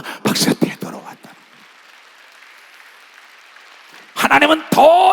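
A congregation claps in a church during a Sunday service, with a short burst of applause at the start, a quiet murmuring stretch, then a preacher's loud voice returning at the end.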